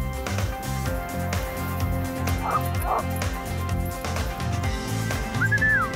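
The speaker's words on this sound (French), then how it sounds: "Oh, les chiens!" Sled dogs bark and yip in short bursts over a steady rumble of sled movement and music-like tones, with a brief whistle near the end.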